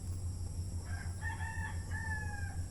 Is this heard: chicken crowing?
yes